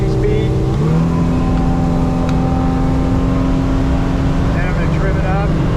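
Thunderjet boat with a Yamaha F250 outboard cruises at steady speed, a loud continuous engine drone with sustained tonal hum and water rush, and a voice briefly talking over it.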